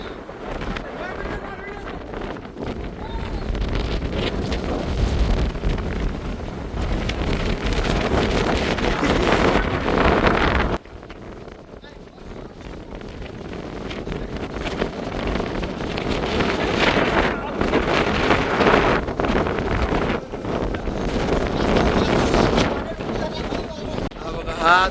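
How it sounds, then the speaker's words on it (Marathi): Strong gusty wind buffets the microphone on the hilltop Lohagad Fort in Maharashtra, roaring loudly in long surges with a brief lull around the middle; voices speak beneath the blustering. "वाराच वारा."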